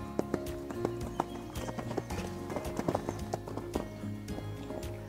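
A horse canters on arena footing during a show-jumping lesson, hooves thudding in a quick rhythmic beat close by, with creaking tack and faint background noise.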